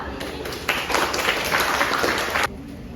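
Audience applause at a student theater monologue performance in a third-floor university corridor, a burst of broadband clapping that swells for about two seconds, then falls back to room noise.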